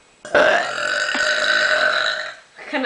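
A long, loud, rumbling burp in a burping contest rolls out close to the mic for about two seconds, followed by a brief second belch at the end.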